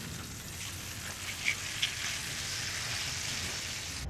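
Bacon sizzles and crackles in a pan at a campsite breakfast, a steady close hiss with a couple of brief sharper pops.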